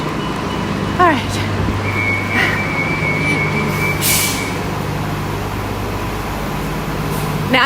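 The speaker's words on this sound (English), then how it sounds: "Oh, I just missed the bus." A transit bus pulls away from a stop at Walt Disney World's Magic Kingdom, with air-brake hiss and a steady low engine drone under crowd noise, a brief reversing-style beep, and people talking nearby.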